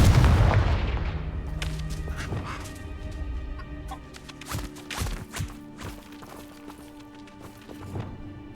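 A fiery blast spell in the video game Hogwarts Legacy opens with a loud booming burst that decays. Scattered sharp cracks and impacts follow amid game sound effects.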